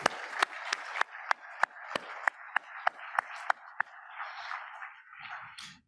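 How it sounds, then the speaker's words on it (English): Applause at a conference keynote begins with a handful of loud, evenly spaced claps close by, then fades into softer, scattered clapping from the audience before dying away. "give them a round of applause"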